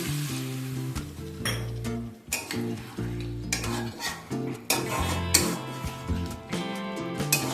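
A small splash of water added to chicken cooking in a pan for a thecha chicken dish sets off steady sizzling, with intermittent clinks and scrapes of a utensil against the pan over faint background music.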